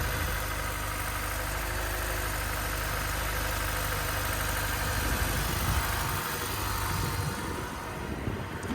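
A 2007 Honda S2000 with a new serpentine belt and red valve covers idles steadily with a low, even burble that holds close and loud throughout, softening slightly near the end.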